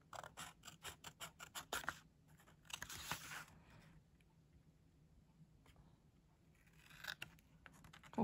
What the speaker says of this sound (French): je vais couper un petit bout